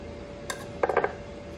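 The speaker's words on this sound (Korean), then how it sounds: "이제 한번 이거 칼로 잘라볼게요." A knife slices through fresh, large Jeongeup blueberries, giving a quick cluster of four or five light clinking taps against the cutting surface, close and fairly quiet, with a softer tap just before.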